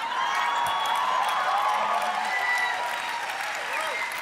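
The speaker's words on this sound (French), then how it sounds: "Applaudissez André qui a rien demandé" An audience at a televised awards gala applauds in a steady, moderately loud burst of clapping with light cheering, while a voice speaks over it.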